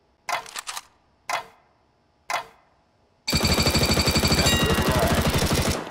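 Gunfire from CS:GO: three single sharp shots spaced about a second apart, then a loud, rapid sustained burst of automatic fire lasting nearly three seconds, heard alone with no talk.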